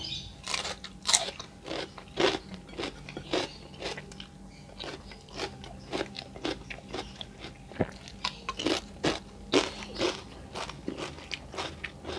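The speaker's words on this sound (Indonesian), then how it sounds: "Enaknya pare mentahnya, kriuk." Loud, close crunching of raw bitter melon being bitten and chewed, with repeated crisp bites in a steady rhythm and no talking.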